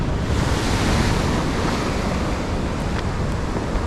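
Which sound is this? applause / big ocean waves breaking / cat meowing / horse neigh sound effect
big ocean waves breaking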